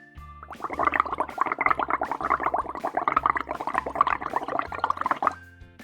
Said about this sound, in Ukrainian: А тепер починаємо дути у водичку.